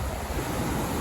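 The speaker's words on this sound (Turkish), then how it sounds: "İnsanı dinlendiriyor ha su sesi" Steady rushing water, a continuous broadband wash that stays even throughout, with a faint hiss of wind over it.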